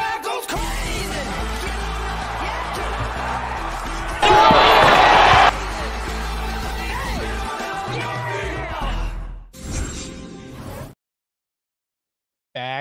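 A crowd sound effect on a football podcast, a loud dense roar of cheering with a brief brighter burst partway through, cutting off abruptly into silence near the end.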